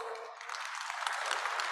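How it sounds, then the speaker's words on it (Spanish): An audience at a sustainability forum on the social and solidarity economy gives the panelists a short, fairly faint round of steady applause. "les pido un fuerte aplauso para todos"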